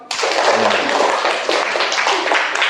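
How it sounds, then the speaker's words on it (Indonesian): Students and teachers at a school gathering clap together in a dense burst of applause that starts abruptly and holds steady throughout, close and fairly loud. "Tepuk tangan untuk kita semua."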